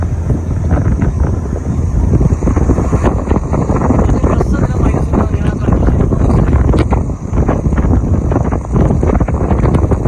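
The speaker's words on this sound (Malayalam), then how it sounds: "പക്ഷെ നല്ല കാറ്റാണ്, പെരും കാറ്റ്, നല്ല തണുത്ത കാറ്റായതുകൊണ്ട്" Strong cold wind buffeting a microphone on a mountain road between Jeddah and Habaha, a loud continuous roar with gusts that fills the whole stretch without pause.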